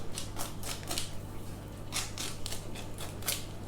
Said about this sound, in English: So I'm just cutting that spare pastry off.